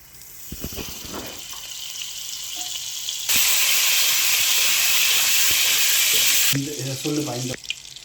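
Loud, steady sizzling as butter hits hot oil in a pan, a dense bright hiss that swells midway and then settles into crackling with faint clinks.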